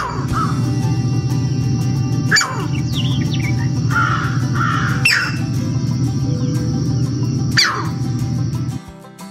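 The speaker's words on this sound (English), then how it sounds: "Here's what the green heron sounds like." A green heron in a wetland gives three harsh, abrupt calls spaced a few seconds apart, loud and near over a steady low droning hum, with fainter bird calls between.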